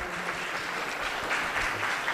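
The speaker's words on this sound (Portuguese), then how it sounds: "Pode ser uma salva de palmas aí pro Pedro aí, galera." An audience at a talk on app entrepreneurship applauds the speaker Pedro, a steady moderate wash of clapping lasting a couple of seconds without voices.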